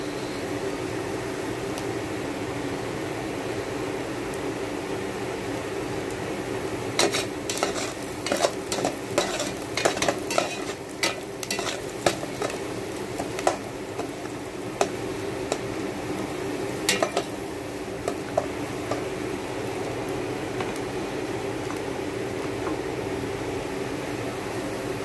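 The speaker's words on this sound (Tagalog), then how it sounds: "nilagay na natin ang ating bawang, no?" Garlic fries in a pan with a constant close sizzle, while a utensil stirs and scrapes against the pan in a burst of clinks partway through; no voices are heard.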